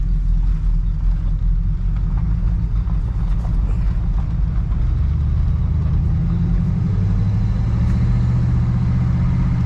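A 1979 Chevrolet El Camino SS engine idles with a deep, steady, lumpy rumble, close and constant throughout with no talk.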